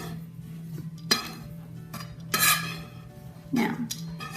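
A metal cookie sheet for vegan sugar cookies is handled in a home kitchen, giving three separate clanks and scrapes spaced about a second apart over a steady low hum.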